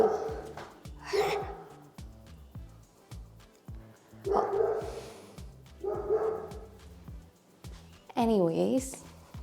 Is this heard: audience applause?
no